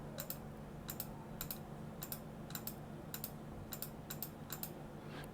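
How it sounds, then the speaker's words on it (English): Typing on a computer keyboard while coding, with quiet clusters of crisp key clicks in short irregular bursts, close by and faint over a low background hum. "Now let's start typing."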